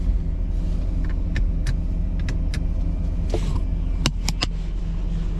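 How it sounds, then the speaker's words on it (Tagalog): A car engine idles while warming up in cold Canadian weather, a steady low rumble inside the vehicle with scattered clicks and small knocks, no talk. "Pinapainit ko lang to sa sasakyan mga boss"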